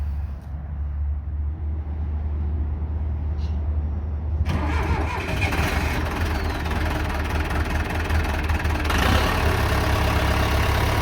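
A heavy four-cylinder diesel engine on an antique tractor cranks and catches, then settles into a loud, steady low rumble with a rougher surge partway through, close by.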